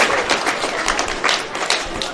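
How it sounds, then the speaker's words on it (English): A rugby league minor semi-final crowd at a Newcastle ground gives steady applause as a player leaves the field; a brief, moderately loud patter of clapping with a few voices. "So Blake Andrews gets a generous applause from the crowd."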